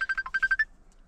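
An incoming-call ringtone chimes on a phone in a car-repair setting, a quick run of about eight bright electronic tones in two bursts, close and clear, then quiet.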